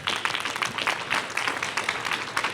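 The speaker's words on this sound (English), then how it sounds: "round of applause for all of our candidates right now" An audience at an election candidates night claps in sustained applause for the candidates. The steady clatter of many hands holds for a couple of seconds and no voices cut through.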